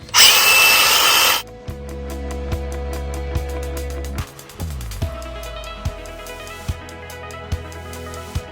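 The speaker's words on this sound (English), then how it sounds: "So to sharpen a bolster, angle grinder." Angle grinder sharpening a steel bolster chisel, a loud high whining grind lasting about a second and a half, then the spinning disc winds down, ringing and rattling with periodic ticks as it slows.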